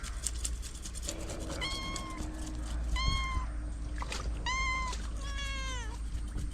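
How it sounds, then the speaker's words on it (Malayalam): Several cats in a village yard meow in a series of clear, rising-falling calls, four or five distinct meows close by over a steady background hum and outdoor noise. "ഇതിപ്പോൾ പൂച്ചകളുണ്ട്, പൂച്ചകൾ പറക്കുണ്ട്"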